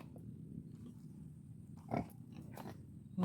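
Native pig in a pen on a rural farm, grunting low and steady close by, with a couple of brief louder snorts and squeals near the end.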